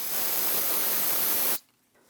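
Brake parts cleaner is sprayed from an aerosol can onto rear brake caliper pins of a 2015-2022 Chevrolet Colorado, giving a loud, steady hiss for about a second and a half before it stops abruptly into near silence.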